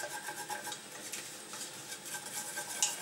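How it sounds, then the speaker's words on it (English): Sunchokes being stirred into melted butter in a pan, a steady scraping and rattling of utensil against pan with a faint sizzle underneath and a sharper clink near the end. "mix it into the butter"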